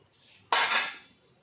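A spoon scrapes and clatters once through a pan of tomato, spring onion and egg curry as masala is mixed in, a short loud metallic stir standing alone against a quiet background.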